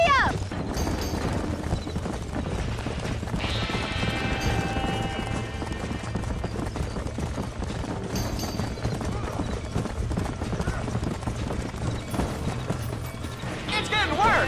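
Horses gallop in the video game Red Dead Redemption during a barn fire, with steady rapid hoofbeats throughout, a whinny, and voices talking over the hooves.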